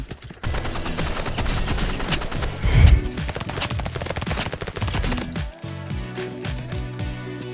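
Shotgun fire in a video game, heavy rapid blasts over a busy in-game soundscape with music-like tonal layers, loud and close with a strong boom near the middle.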